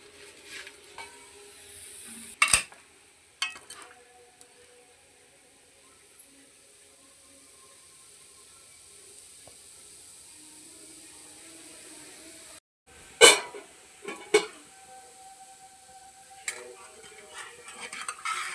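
Sarva pindi, a Telangana rice flour flatbread, roasts in a pan on the stove, with a faint steady sizzle broken by a few sharp scraping and spatula clanks against the pan.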